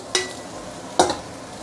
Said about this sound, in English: So I'm going to put in the fried rice.